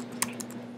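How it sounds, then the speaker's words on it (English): Two or three quick, soft keystrokes on a computer keyboard while entering a command during a manual Galaxy Nexus firmware update, close by against a steady electrical hum. "So we're going to type in"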